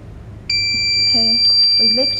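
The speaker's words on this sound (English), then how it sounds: "the timer will sing a sound to remind you there's the DIY product finish" A steady high-pitched electronic beep from a flat heat press machine's timer alarm starts abruptly and holds, with a voice speaking briefly underneath.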